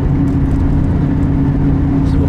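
A car with a struggling rear differential pulls up to about 30 mph, a loud, steady engine and road drone heard from inside the cabin with no clear change in pitch.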